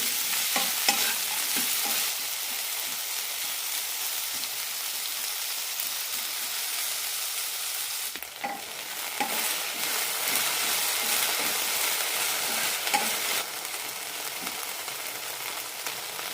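Okra sautéing with masala in a pan, a steady loud sizzle and fry with repeated stirring scrapes throughout, no voices.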